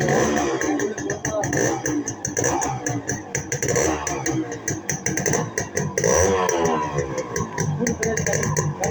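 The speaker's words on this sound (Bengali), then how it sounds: "এখন আপনাদেরকে গাড়িটির সাউন্ড দেখানো হবে" A Honda motorcycle engine runs with a rough, pulsing mid-range rumble close to the listener, while someone talks over it.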